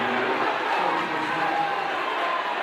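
A home crowd at a boys high school basketball game in a gym, Lone Peak at Lehi, grumbles and murmurs steadily in disapproval after an offensive foul call, a dense, sustained roar with no breaks.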